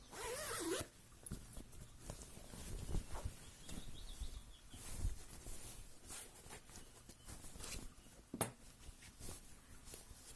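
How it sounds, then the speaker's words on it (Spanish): An invisible zipper on a sewn garment is pulled closed, giving a close, continuous fine ratcheting rasp of small teeth with a few faint handling taps, steady for about ten seconds. "y cerramos la cremallera"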